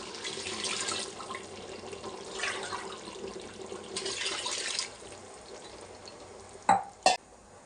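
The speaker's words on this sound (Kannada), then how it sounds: "ನೀರಲ್ಲಿ 2 ಲೋಟ ಇದೆ. ನೀರು ಆ್ಯಡ್ ಮಾಡ್ತಿದ್ದೀನಿ." Water is poured into a pot for chicken biryani rice. Several short, splashy pouring bursts are followed by quiet, then two sharp knocks near the end, all close with no speech.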